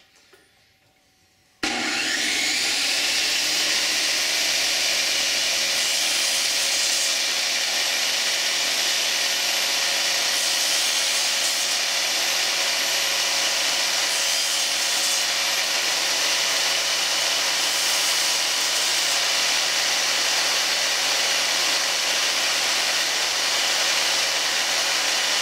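A table saw cutting thicker stock while making a stepper motor collet, the blade raised slightly; after a short quiet start, a loud, steady whining cut runs continuously to the end with no talking.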